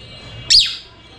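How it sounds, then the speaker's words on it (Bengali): A pet bird kept on a balcony lets out a single sharp, piercing screech, loud and close, reacting to a newly arrived bird over a quiet background hum. "আমাদের ওই নতুন পাখিটার সাউন্ড শুনেই চিল্লাইতেছে।"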